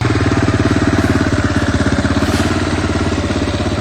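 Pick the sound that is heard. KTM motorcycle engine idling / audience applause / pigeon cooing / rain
KTM motorcycle engine idling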